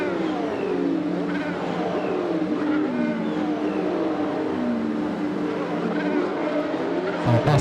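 Racing game cars launch from the grid at a Texas circuit, a dense pack of engines revving and accelerating together with some tire squeal, loud and continuous throughout.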